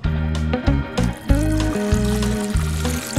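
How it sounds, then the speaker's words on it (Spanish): A small amount of water is poured over a fruit seed in a homemade seed germinator, giving a close, loud splashing pour in short bursts with brief pauses between them. "Observe, un poco de agua."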